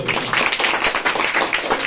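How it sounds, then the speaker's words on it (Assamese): A room of students at a Government of Assam school activity session clapping together, a dense steady patter of many hands at close range, lasting a couple of seconds with no speech. "ইয়াৰ কাৰণে তেওঁৰ কাৰণে এটা জোৰেকে হাত চাপৰি হ'ব।"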